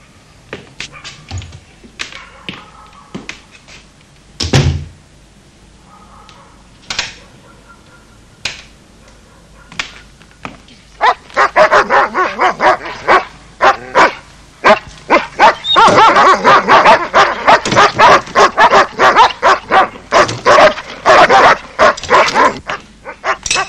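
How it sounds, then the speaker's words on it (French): Dogs bark at night, a few scattered sharp barks at first, then a dense, loud burst of overlapping yapping and barking. "Que se passe-t-il avec les chiens?"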